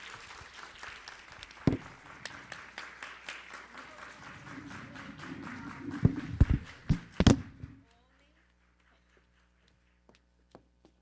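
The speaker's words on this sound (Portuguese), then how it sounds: "Salva de palmas para nós, porque hoje há muito que celebrar" An audience at a talk on ecological, feminine and spiritual leadership claps: a busy, uneven patter with a few sharp louder claps that stops abruptly near eight seconds, leaving near silence with a couple of faint isolated taps.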